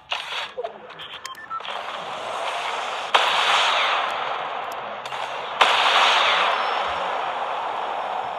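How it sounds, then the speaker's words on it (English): Hyper SMG firing in the video game Fortnite, sustained bursts of rapid gunfire that swell louder in two surges, with no voices over it. "That's a hyper SMG."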